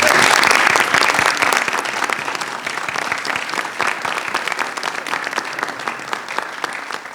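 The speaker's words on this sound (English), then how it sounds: "And now, thunderous applause." Audience applause at a Hudson River Valley Greenway board meeting fills the room with dense, steady clapping that starts loud and eases slightly, continuing throughout with no talk over it.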